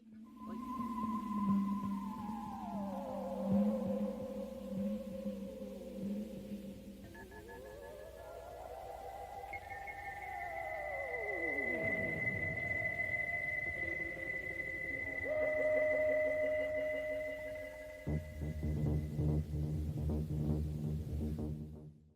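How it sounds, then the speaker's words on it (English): A creepy theremin, swooping and gliding tones arcing up and down over a thick pulsating drone, ending with a throbbing chordal texture. "there's this creepy theremin lurking in the mix along with this loud, thick sound pulsating in the background"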